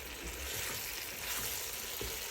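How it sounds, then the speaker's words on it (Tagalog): Ingredients for Italian spaghetti sauté in a hot pan, a steady loud sizzle and crackle of frying with faint stirring scrapes throughout, no voices. "Gisa lang natin."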